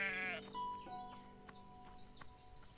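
Sheep bleat in the farming video game Everdream Valley, a couple of short calls near the start followed by quieter game sounds and soft chimes.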